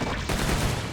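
Loud, dense gunfire from a burst rifle in a video game. Rapid shots blur into one continuous close roar with no talk.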